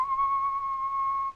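A puppet character whistles a single steady, clear tone to a horse, held for just over a second before cutting off, close and fairly soft.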